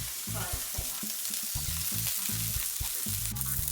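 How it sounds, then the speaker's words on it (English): Green onions hit hot oil in a frying pan while making Korean seafood pancakes, giving a loud, steady sizzle with irregular crackles and stirring clatter throughout, with no talking. "you're going to grab a handful of green onion, and you just put that on directly onto your frying pan"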